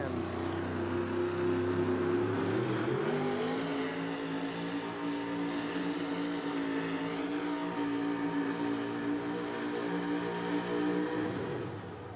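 A 1978 GMC truck-pull entry with an all-aluminum engine at a USHRA event in Oakland, roaring loud and steady for the whole stretch, rising in pitch early on, with crowd din under it.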